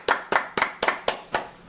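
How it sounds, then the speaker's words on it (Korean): Six crisp hand claps ring out at an even, brisk pace, close and sharp, each one decaying quickly before the next, with no talking. "박수 좀 주죠."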